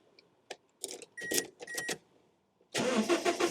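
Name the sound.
Toyota Hiace van engine starting with keys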